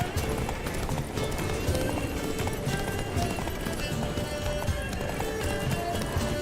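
A horse gallops at speed in the video game The Witcher 3: Wild Hunt, Next Gen edition, its rapid rhythmic hoofbeats running steadily throughout at moderate level, layered over game music and ambient sound.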